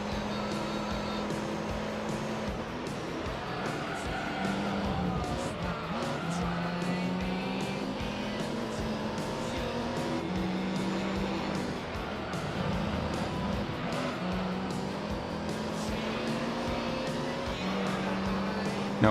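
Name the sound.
car engine noise in Gran Turismo 3 video game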